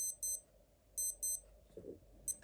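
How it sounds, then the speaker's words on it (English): A 1993 Casio DW-340 digital diving watch alarm beeps in short high-pitched double bursts, repeating three times at a steady rhythm, with a brief low rustle near the end. "We're also going to hear the alarm."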